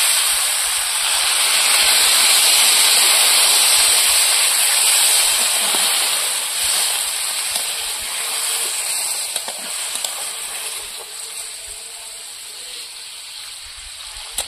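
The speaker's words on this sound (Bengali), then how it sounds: "এবার জল দিয়ে দেবো।" Water poured into a hot pan of mixed vegetable curry sets off a loud, continuous hissing sizzle that stays steady and then slowly fades a little, with no voices.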